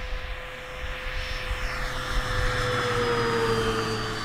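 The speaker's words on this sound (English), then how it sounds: "And I'll give you a full throttle flyby here. Power's coming in." An FMS P-47 Thunderbolt 1700mm RC model plane makes a full-throttle flyby, its electric motor whine rising and sliding down in pitch as it passes, over steady outdoor background noise with no talking.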